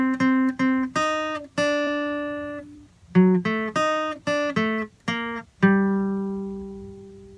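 Guitar playing the chorus phrase of a salsa song, a clean run of short plucked single notes in two phrases, each ending on a longer ringing note, played alone and up close.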